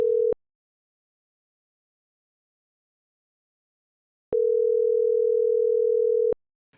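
Electronic ringback tone on an outgoing telephone call, heard as a brief steady beep at the start, a long silent gap, then a second steady tone lasting about two seconds, with no talking.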